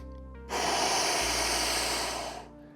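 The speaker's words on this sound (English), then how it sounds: "I'm gonna do 1 setup breath." A single deep, forceful breath is taken before an ab exercise, a loud close airy rush lasting about two seconds before it fades out.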